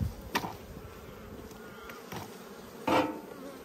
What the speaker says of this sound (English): these guys have got heaps and heaps of bees in there